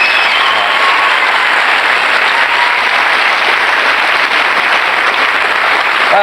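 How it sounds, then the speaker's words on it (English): A television studio audience applauds a guest on a family comedy show, a loud, thick and unbroken roar of clapping that holds steady for the full six seconds. "let's give him a nice round of applause"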